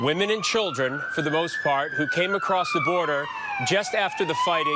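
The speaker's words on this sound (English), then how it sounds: "Sorry about the siren." A wailing siren sweeps up and down continuously, loud and close, outside a city hall in Ukraine, while a person talks over it.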